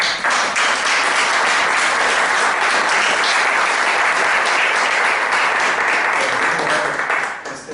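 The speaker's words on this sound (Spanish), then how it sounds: "Voy a pedir que nos demos un aplauso." Sustained applause from an audience at a philosophy café discussion session, dense and loud clapping filling the room for several seconds before tapering off.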